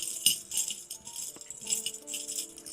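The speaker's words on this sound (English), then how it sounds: "We're just going to shuffle." Oracle cards are shuffled in quick, light riffles and soft slaps, a brisk papery rattle that comes in short bursts close by with no one speaking.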